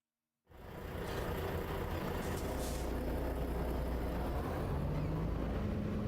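A loud truck engine in Euro Truck Simulator 2 starts up from silence and settles into a constant deep, rumbling drone that holds steady and heavy for several seconds.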